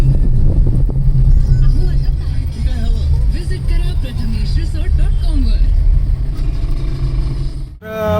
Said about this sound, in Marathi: गाडी घेऊन निघालो